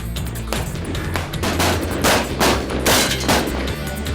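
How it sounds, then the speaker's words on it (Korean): Rifle shots at a military shooting range during air force academy cadet training, fired one by one in a rapid, evenly spaced series of sharp cracks, loud and close, with other shots echoing nearby. "침착하게 한 발 한 발 방아쇠를 당깁니다."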